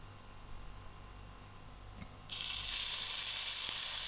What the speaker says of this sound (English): I'm just going to add in my 2 tablespoons of oil.